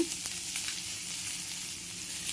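Mustard seeds, cumin, fennel seeds and asafoetida crackle and sizzle steadily in hot oil, a continuous close frying hiss with small pops.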